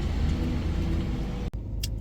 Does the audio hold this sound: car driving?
yes